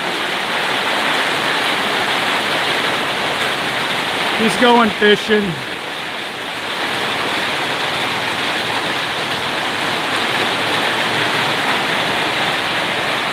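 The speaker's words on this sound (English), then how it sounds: "it is pouring big time. This is what it does every day here in the rainy season." Heavy rain pours down steadily during the rainy season in Thailand, a dense, continuous hiss with no break, with a voice speaking briefly over it partway through.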